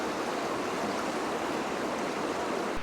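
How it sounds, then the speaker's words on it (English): A cool mountain creek flowing in a steady, broad rush of water, close and constant throughout with no voices, ending in a brief knock. "soaking your feet in a cool mountain creek"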